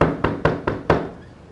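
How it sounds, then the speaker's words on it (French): Five sharp knocks on a door at midnight, evenly spaced and loud, ringing briefly before fading into quiet. "À minuit, 1h du matin, la porte, elle tape."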